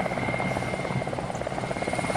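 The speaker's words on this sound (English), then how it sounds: "It's an enemy helicopter." An enemy helicopter in a tactical shooter video game thrums with a steady, rapid rotor chop and engine whine, holding constant and fairly close throughout.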